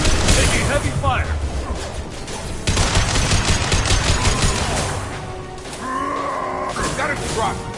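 Heavy gunfire in Mass Effect 3, loud, dense bursts of shots and explosions in a sustained battle mix, with sci-fi tones and radio-style voices layered over it.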